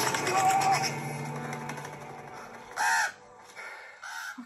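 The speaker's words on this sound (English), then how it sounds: "Fucking crows." Crows caw in two short bursts near an open field, heard over a busy background of other sounds with brief talk early on.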